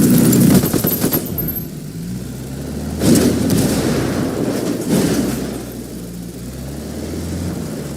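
Bursts of rapid automatic gunfire in the open-world shooter game Ghost Recon Wildlands, loud and close, coming in several separate volleys over a rumbling background.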